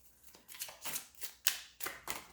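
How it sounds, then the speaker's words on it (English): A deck of cards being shuffled by hand during a card reading, in several quick, crisp riffling bursts close by and fairly quiet, with short pauses between them. "See, I can shuffle them better, you see."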